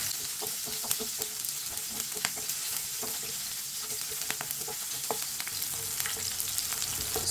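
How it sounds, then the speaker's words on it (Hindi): Green chillies fry in hot oil in a pan, a loud continuous sizzle dotted with frequent small pops and crackles, close and without talk. "सब्ज़ मिर्च को मैंने 1 मिनट के लिए फ्राई कर लिया है"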